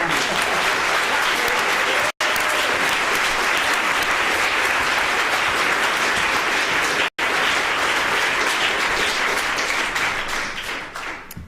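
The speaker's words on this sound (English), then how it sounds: "Give them all a clap, please." Loud, sustained applause from a large lecture audience fills the space, steady throughout before fading toward the end.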